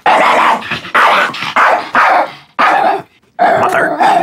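A dog barks loudly and close in a run of sharp, repeated barks with brief gaps, nearly continuous and without voices over it.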